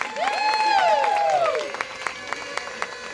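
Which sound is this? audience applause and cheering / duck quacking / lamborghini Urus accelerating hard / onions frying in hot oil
audience applause and cheering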